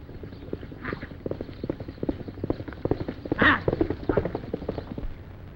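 Hooves of a horse presented as a racehorse clip-clop in a steady, fairly close walking rhythm, with a brief louder burst partway through.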